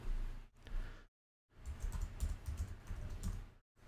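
A layer name is typed on a computer keyboard in short bursts of soft, close clicks separated by brief silent pauses, with no speech.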